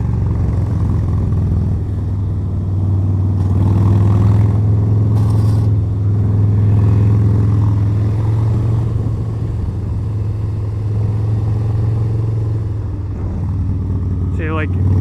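A 2020 Harley-Davidson FXLR motorcycle cornering fast, its engine a steady deep rumble heard close from the rider's position with wind noise over it, loud and continuous through the run.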